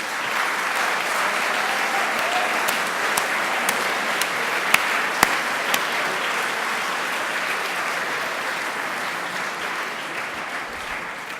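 Steady, dense applause from a sizeable audience at a Presidents Night event fills the whole stretch, with a few sharper claps standing out near the middle.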